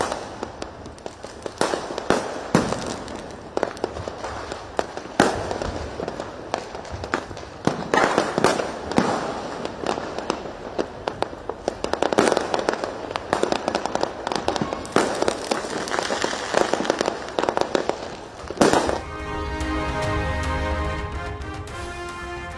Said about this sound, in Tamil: வழக்கமான உற்சாகத்துடன் பட்டாசுகள் வெடித்து தீபாவளியை வரவேற்ற மக்கள்.